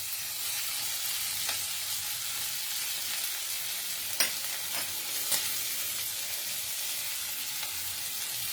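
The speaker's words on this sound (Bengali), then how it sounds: "এবারে এখানে আমি দিয়ে দেবো আদা রসুনের পেস্ট আর স্বাদ অনুযায়ী কাঁচা লঙ্কার পেস্ট।" Ginger garlic paste and green chilli paste fry in a pan while carrot barfi is being made, giving a steady, close sizzle with a few small pops and clicks.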